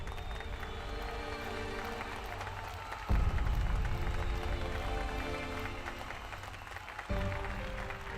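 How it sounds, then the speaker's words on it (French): Audience applause for a young woman presenting her creation on a stage show, a dense steady wash of clapping with cheers and music underneath, surging louder twice as the crowd responds. "Applaudissez-la bien fort."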